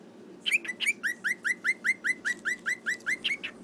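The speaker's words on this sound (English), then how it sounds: "a sweet bird?" A small bird chirps a rapid run of about fifteen sharp, evenly spaced tweets, close and clear over a faint background hum, with no one speaking.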